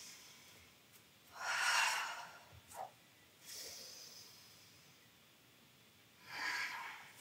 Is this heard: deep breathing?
yes